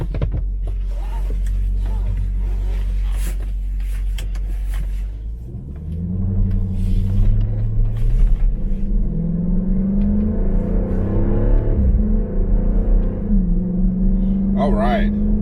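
A 2020 Dodge Durango SRT pulling onto the road, a deep low rumble at first, then the engine rising through several gears, with someone talking over it from inside the cabin.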